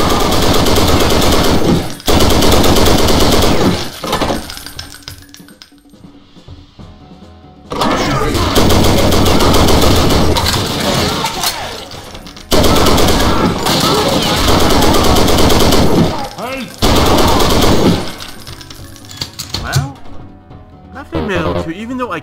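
Loud bursts of automatic machine-gun fire in the Wolfenstein video game, coming in long sustained volleys separated by short lulls, with game sounds filling the gaps.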